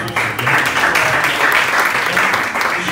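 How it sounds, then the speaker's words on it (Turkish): An audience at a welcome party for young people studying away from home breaks into dense, sustained applause, loud and steady for about three seconds with a few voices mixed in. "bir alkış alalım."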